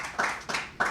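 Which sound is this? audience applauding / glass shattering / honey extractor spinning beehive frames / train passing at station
audience applauding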